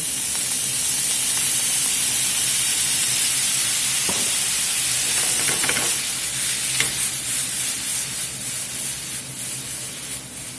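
Soy sauce hitting a hot pan of fried rice with beef short ribs, giving a loud, steady sizzle and hiss throughout, with occasional stirring scrapes and clicks over the continuous frying noise.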